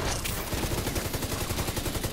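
Rapid automatic gunfire in The Division 2 aimed at a fast-flying RC drone, a loud dense burst of evenly spaced shots running the whole time with no talking.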